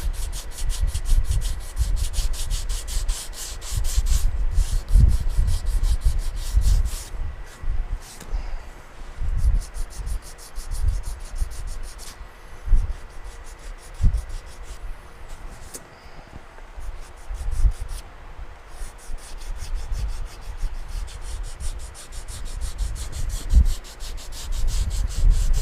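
Someone sands primer on a 2017 Chevrolet Sonic quarter panel by hand with 180-grit paper, making close, rhythmic scratchy back-and-forth strokes with brief pauses in between and no voices.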